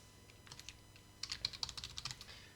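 Typing on a computer keyboard while editing a database query, quiet rapid key clicks in short bursts, faint and close, with no talking.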